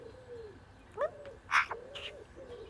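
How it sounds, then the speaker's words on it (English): A bird calls near its nest with a few short chirps and cooing notes, fairly close, over a steady low background hum. "Bird. Bird. Bird. Bird."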